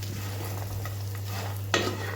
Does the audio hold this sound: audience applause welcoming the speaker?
no